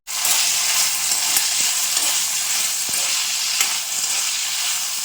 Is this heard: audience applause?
no